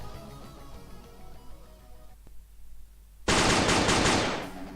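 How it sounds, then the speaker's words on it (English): Sustained automatic gunfire in the Dies Irae game, a loud dense burst of rapid shots cutting in abruptly after a quieter stretch and continuing to the end. "the sound of Shiro's constant gunfire was enough to make me understand what he was trying to do"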